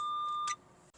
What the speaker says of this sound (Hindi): ये जब इसकी बीप तेज़ हो गई है विच मीन्स कि यू हैव टू ब्रेक